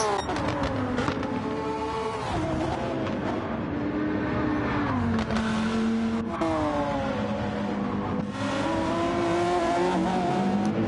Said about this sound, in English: This train of cars now making their way down the dipper.